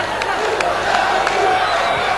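A football crowd cheers and roars after the first goal for Al-Ahly Tripoli in a friendly match, a dense continuous wall of voices with whistles and shouts poking through, loud and sustained.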